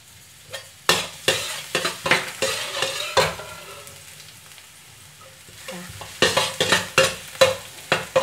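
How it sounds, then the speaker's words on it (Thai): Chopped garlic sizzles in rice bran oil in a hot pan while a utensil scrapes and stirs in quick bursts, with a quieter stretch of steady frying in the middle. "ตั้งกระทะใส่น้ำมันลงไปค่ะอันนี้ป้าใช้เป็นน้ำมันรำข้าวค่ะ ตามด้วยกระเทียมสับค่ะ"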